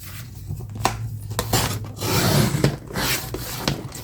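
Scissors snip and rasp through paper being cut down for a fall-themed junk journal, a close series of irregular crisp cuts and rustles with no talking.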